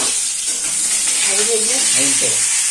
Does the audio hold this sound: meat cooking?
yes